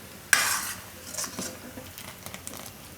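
Spiced buttermilk with torn rotli pieces being stirred in a pot, giving a sharp scrape and splash at the start followed by softer intermittent stirring clinks and a faint background sizzle.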